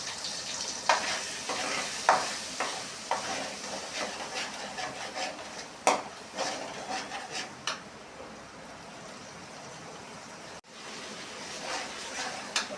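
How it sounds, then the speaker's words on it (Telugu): Ginger paste sizzles and fries in a pan with a steady low hiss, while a spatula stirs and taps against the pan in scattered scrapes. Nobody speaks. "అల్లం పేస్ట్ అయితే కొంచెం పచ్చి వాసన పోయేదాకైతే ఫ్రై చేసుకోవాలి ఫ్రెండ్స్"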